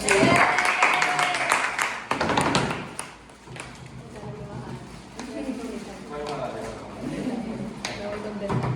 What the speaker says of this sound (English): Clap for your partners